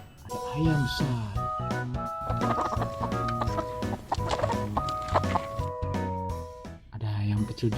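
A large toy chicken plays repeated electronic clucks in a bouncy, tuneful pattern. Its tones ring out clearly and continuously, with a voice heard alongside.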